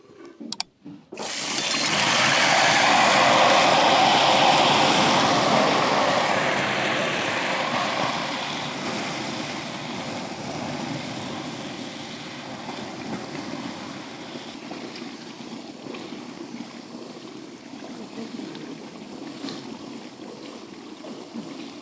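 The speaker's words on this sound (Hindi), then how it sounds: "अब इसमें हम शीरे के लिए पानी, इसमें 1 गिलास आपने पानी डाल देना है।" A glass of water poured into browned sugar in a hot pan for halwa syrup sets off a loud, sudden hiss and sizzle that roars, then gradually eases into a steady bubbling boil.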